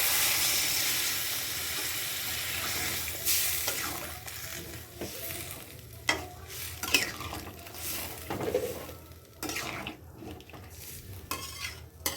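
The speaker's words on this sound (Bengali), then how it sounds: "এবার জল ঢেলে দেবো।" Water is poured into a pan of cooking jackfruit curry. A hissing rush comes first, then stirring and clinks of a utensil against the pot with a quieter sizzle underneath, close and without talk.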